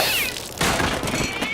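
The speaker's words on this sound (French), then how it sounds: "Non, Momo, il faut pas pisser sur mon chat, OK?" A house cat meows loudly and close by, a single drawn-out cry with a sharper accent partway through, set in a cartoon home scene.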